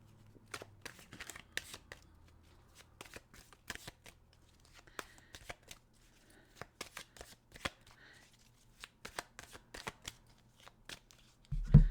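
Tarot cards are shuffled by hand in a quiet room, with crisp, irregular riffles and taps spread across about twelve seconds and a soft thump at the end.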